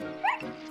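A cartoon dog gives a single short, bright bark-like yip while running eagerly around a spinning merry-go-round, a quick close sound over a soft background tone.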